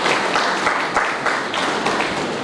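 An audience at a book launch meeting claps in a dense, steady round of applause that holds at full volume throughout, close and loud.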